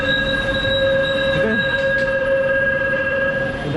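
A steady loud hum of a Jakarta LRT train at its terminal station, with sustained tonal whine and faint squeals, as if idling or rolling slowly at a platform.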